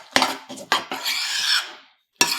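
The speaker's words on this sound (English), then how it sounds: "now you're going to mix it all up until it's well incorporated" Keto biscotti dough with coconut milk is stirred in a bowl, giving a few scraping, rasping strokes and knocks of the utensil, close and fairly loud, with a short silent gap before a final scrape.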